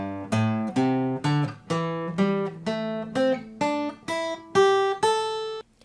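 A guitar picks through a pentatonic scale pattern on the top, middle and bottom string pairs, about a dozen clear plucked notes in an even rhythm, each ringing briefly before the next, played alone up close.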